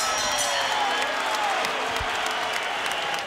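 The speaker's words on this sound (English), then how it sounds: "And the crowd's going to give him a big hand." Boxing arena crowd at a heavyweight fight applauding a fighter, dense sustained clapping and crowd noise filling the space before fading slightly at the end.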